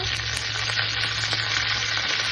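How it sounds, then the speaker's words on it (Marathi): Cumin, mustard seeds, curry leaves and red chillies sizzle steadily in hot tadka oil for a Holi special Maharashtrian thali, a dense, close, continuous fry with no talking. "आता आपण तडका तयार करूया तर मी इथे जिरे टाकलं मोगरी टाकलं कढीपत्ता टाकलेला आहे लाल मिरच्या"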